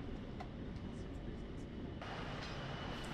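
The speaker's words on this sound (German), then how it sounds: "Von Bandung bis Kutuayo fuhren wir mit dem Zug." Train travelling on Java between Bandung and Kutoarjo, heard as a constant dense rumble and rattle that shifts character partway through, loud and continuous with no clear speech.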